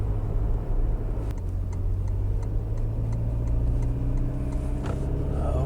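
Toyota Hilux mild hybrid cruising on a highway, a steady low engine and road drone inside the cab with a rhythmic indicator-like ticking through the middle, no talk.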